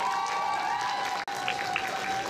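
A crowd applauds a cosplayer at a cosplay contest, steady clapping under a sustained tone from the venue sound system, briefly cut by a short dropout midway.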